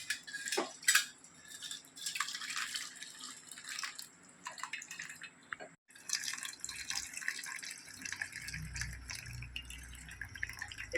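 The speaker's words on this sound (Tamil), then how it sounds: "இதை தண்ணி அவ்வளோத்தையும் வடிச்சிடணும்" Water drips and trickles as it is poured off cooked lentils, with light clinks of a metal pot and utensils, close by and fairly quiet.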